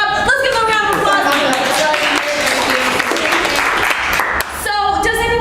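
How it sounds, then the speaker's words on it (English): A studio audience on a streaming show gives a round of applause, heard as a steady wash of clapping mixed with voices and music. "Let's give him a round of applause"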